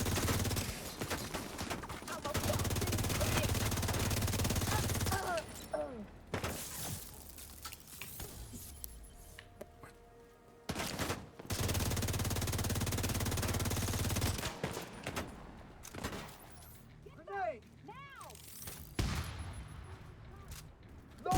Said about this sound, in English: I guess that was a shock grenade together when that shot went off.